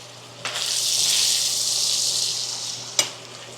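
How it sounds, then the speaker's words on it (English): Steak searing in a pan, a close hissing sizzle that swells after a sharp clack and holds steady, with a second knock near the end and a low hum beneath. "I'm just trying to sear the steak completely in a good way."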